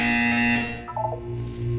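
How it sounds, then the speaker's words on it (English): A buzzer sounds in the video game Portal 2, a loud electronic tone that holds for about half a second and then breaks into short stuttering pulses before fading out. "When you hear the buzzer, look down at the floor."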